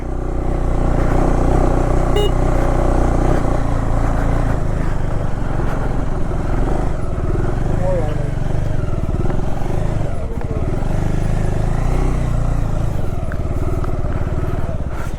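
A motorcycle engine drones steadily and loud throughout, with some rattling and clatter, as the bike labours uphill at close range near Chitkul village.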